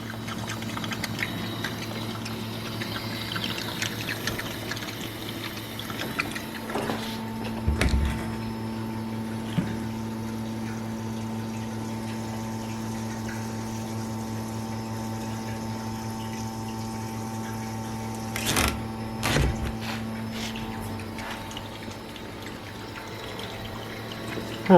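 A fuel pump drains the fuel tank of a right-hand-drive turbo Honda CRX, giving a steady mechanical hum with trickling liquid underneath and a few louder clunks along the way, with no talking.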